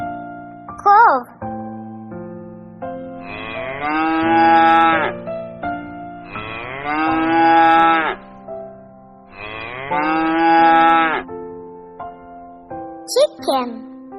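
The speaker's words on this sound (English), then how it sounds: "Cow." A cow moos three times, each a long, loud, close low bellow with steady gaps between, with short bits of other sound at the start and end.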